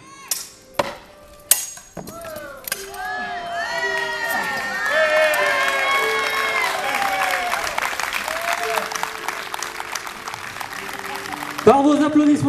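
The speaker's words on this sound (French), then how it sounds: "Par vos applaudissements" Audience applause and cheering ring out at a medieval armoured combat show, Les Médiévales de Fontaine-Guérard, with a few sharp bangs early on. Steady clapping is followed by shouts, cheers and talk from the crowd, then a loud burst near the end.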